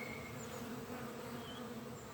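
Honeybees hum steadily at the entrance of a hive as they come and go, a soft continuous buzz with faint individual bees drifting past close by.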